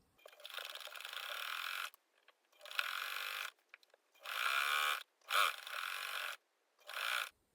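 A domestic sewing machine stitches the seam of a pair of Regency-style pantaloons, running in several separate bursts of steady whirring with short pauses between them, fairly close and alone without talk.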